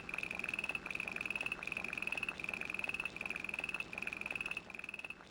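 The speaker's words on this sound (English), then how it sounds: "I mean it's the sound of a bullfrog" A bullfrog croaks in a video game, with fast repeating pulsed croaks in steady bursts that overlap a high tonal chirp. The sound is continuous and even over a low background hum.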